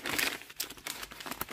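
Packing paper crinkles and rustles while a box of Sola wood flowers is unboxed, a close, busy run of crackling bursts with brief pauses.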